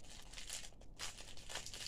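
Packaging on a parcel of cross-stitch and sewing supplies crinkles and rustles during unboxing, in faint, close, uneven bursts of crackling.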